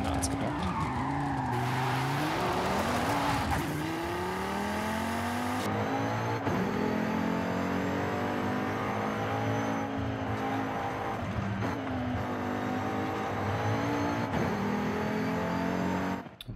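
An Audi RS3 sedan in the racing game Forza Horizon 5 driving and cornering, engine revving and shifting with rising and falling pitch alongside tire squeal, continuous and loud throughout.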